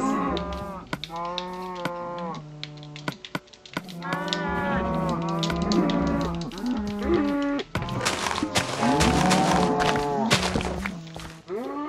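A cow moos repeatedly in the Minecraft video game, with loud, drawn-out game moos overlapping one another. Occasional dull thunks of in-game hits come between the calls.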